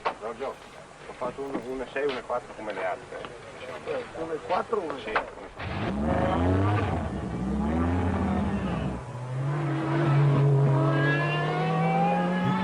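A loud, roaring Lancia Delta S4 rally car engine revs and drones with rising and falling pitch during testing, preceded by fainter engine noise and voices in the background.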